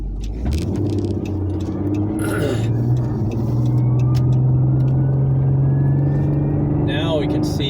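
Road traffic rumbles past from inside a moving vehicle, engine drone rising and steady with a passing whoosh near the end, while voices talk over it.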